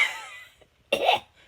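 A single sharp cough bursts out close up, preceded by a faint breathy sound and brief quiet.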